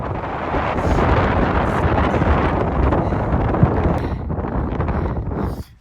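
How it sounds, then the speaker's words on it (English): Strong wind roars at a mountain summit in the clouds in Mexico, a loud constant rush buffeting the microphone that drops away abruptly at the end, with no talking. "The wind is going really, really hard."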